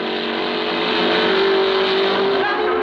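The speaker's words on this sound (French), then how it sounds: "Voici par exemple la Porsche 550 RS Spider des Belges Claes et Stas." Race cars at the 1954 Le Mans 24 Hours, including a Porsche 550 RS Spider and Bristol 450s, drone steadily with a sustained engine roar and a rising tonal whine, loud and continuous with no voices.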